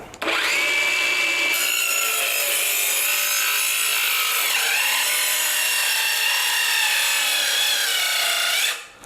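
A 5-inch OSUKA OCS826 cordless circular saw, set to a lower 3,500 rpm, whines steadily as it cuts through wood, loud and close, holding a constant pitch for several seconds before spinning down.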